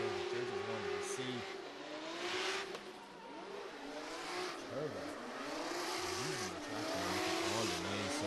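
Drift car at full throttle during a drift championship round, engine revving hard with rising and falling pitch sweeps through the transition, heard at a distance and fairly faint.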